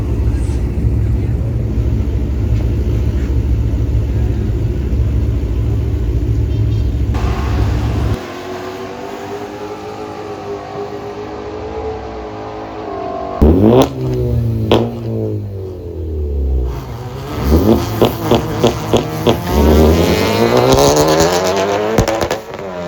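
Honda Civic EK with a B20 engine making a drag strip run: a loud, sustained engine drone, then rising and falling revs through gear changes, with sharp bursts of acceleration in the closing seconds.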